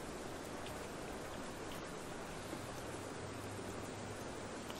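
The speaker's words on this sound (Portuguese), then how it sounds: "É a chuva." Rain in the survival video game Grintale Island, a soft, steady wash of falling drops that stays constant and faint throughout, with no voices.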